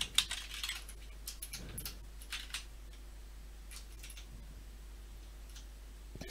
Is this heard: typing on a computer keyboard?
yes